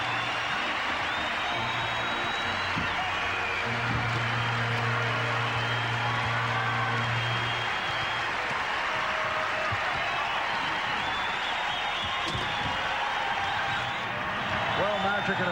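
Boston Garden crowd at a Celtics game applauds Los Angeles Lakers All-Star Magic Johnson: a sustained, dense wash of clapping and cheering across the whole stretch, with a voice talking over it and low sustained tones underneath.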